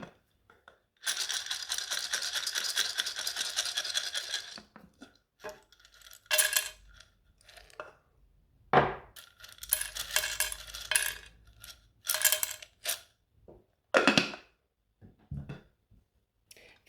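Small letter tiles are turned over and shuffled on an old wooden chopping board, giving a close series of irregular clacks and a longer sliding scrape, with quiet gaps between bursts.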